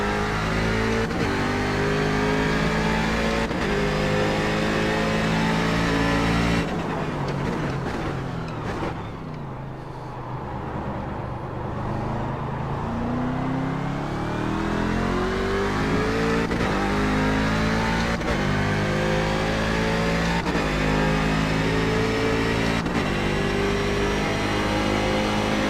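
A Daytona Prototype race car heard onboard at Montreal, its engine droning loudly and steadily through repeated gear shifts, dipping briefly as it lifts off, then revving back up under constant load.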